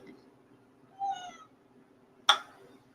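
A house cat meows twice in a kitchen, a short mew followed about a second later by a sharper, louder call, close by in an otherwise quiet room.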